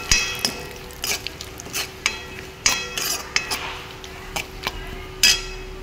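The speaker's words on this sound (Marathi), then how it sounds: "आता याच्यामध्ये आपण काजू बदाम टाकून घेऊ। ते पण आपल्याला चांगलं परतून द्यायचं आहे।" Coconut, cashews and almonds stirred and roasted in a pan, heard as irregular scraping knocks of a spoon against metal over a low steady background, close and moderate.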